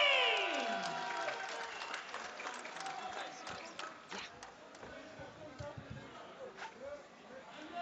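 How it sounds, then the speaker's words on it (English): An arena crowd applauds a newly crowned women's boxing champion. The clapping and cheering are dense and fade gradually, under an announcer's talk. "A massive round of applause, please, for your new champion, Ali!"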